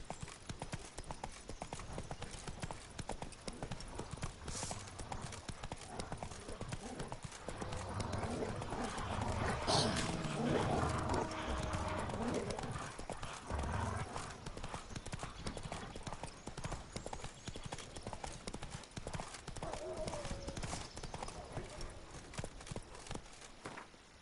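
Roach, a horse in The Witcher 3, gallops with steady rapid clip-clop hoofbeats that run throughout, loud and continuous over game ambience with a faint whinny-like tone in the middle.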